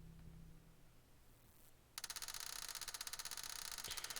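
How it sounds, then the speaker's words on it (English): Loud rapid mechanical ratcheting of a torpedo conveyor stopping aboard a submarine in Code-Name: ICEMAN, a steady fast clatter of evenly spaced clicks starting abruptly after a quiet low hum. "With a loud ratcheting sound, the conveyor comes to a stop, failing to complete its cycle"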